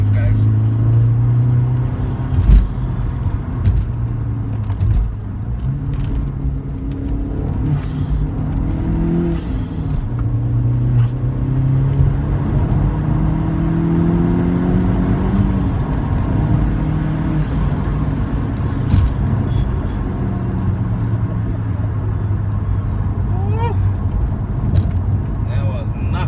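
A mk4 Volkswagen Golf GTI with a 1.8T 20-valve engine and newly changed suspension drones steadily on a test drive, its engine rising in pitch through accelerations and shifts, with a person talking over it.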